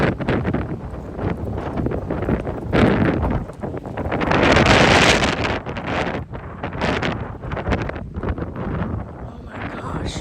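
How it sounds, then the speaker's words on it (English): Strong 40 mph wind gusts in Plano, Texas roar and buffet the microphone continuously, swelling loudest in a broad surge midway, with a person talking underneath. "The wind's trying to push me over."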